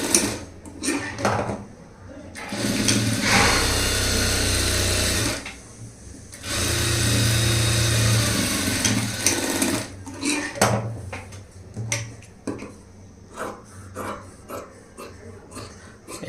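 Sewing machine running in two sustained bursts while stitching a blouse seam, a steady close whirring motor with clicks and handling noises between and after the runs.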